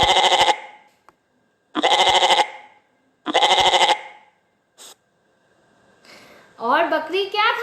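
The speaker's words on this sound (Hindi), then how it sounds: "क्या आप बकरी की आवाज सुनना चाहते हो? चलो मैं आपको बकरी की पहले आवाज सुनाती हूँ।" Three loud goat bleats come close together, each a harsh, quavering burst, followed by a brief soft sound. A voice then starts speaking at the end.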